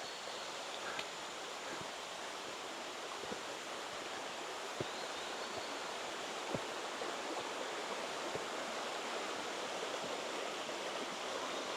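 Water rushing through Ziyun Gorge near Huifeng Bridge, a dense, constant roar of flowing stream that stays steady and fairly loud throughout, with a few faint knocks underneath and no talk.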